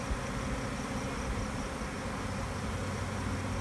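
Honey bees in a swarm fill the air with an unbroken, evenly loud buzzing drone close by, with no talking over it.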